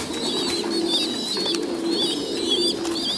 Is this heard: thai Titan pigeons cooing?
yes